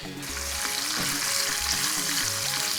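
Garlic and half the onions hit hot salted oil and fry with a steady, dense sizzle that holds evenly throughout, close and loud, with faint stirring scrapes and no talking.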